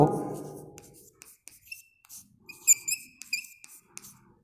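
Chalk or marker scratching out words on a board in short strokes and squeaks, fairly close, following a brief burst of speech at the start.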